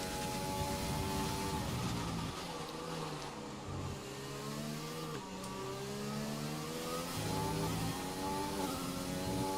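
A Formula 1 car in the racing game F1 2020, on a lap of the British Grand Prix, with its engine screaming close up in a steady high rev and brief dips at gear changes throughout.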